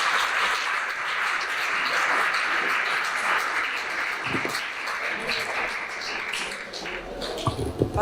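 Steady applause from a large audience, sustained and fairly loud throughout, with a few louder claps near the end.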